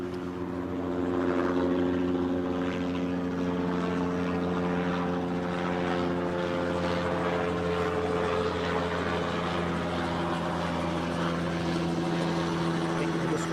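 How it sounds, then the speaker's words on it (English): Emirates Boeing 777 airliner after landing from Dubai at Newcastle airport, a steady loud engine drone with low tonal hum that holds constant throughout, heard outdoors over gusty wind. "We've just watched this Emirates 777 land from Dubai."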